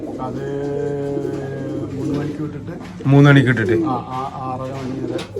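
Andhra touch pigeons coo in a loft, low throaty calls heard close by under someone speaking, with one louder burst of cooing midway.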